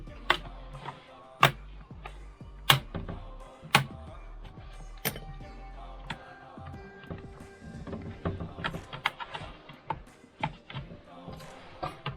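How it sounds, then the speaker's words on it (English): A flathead screwdriver gently pries the lid off a Dell Inspiron 7537 laptop, producing a handful of sharp plastic clicks and snaps spaced a second or so apart, followed by softer scraping and fiddling handling noises nearby. "now a flathead screwdriver. Just gently pry. Just slide it."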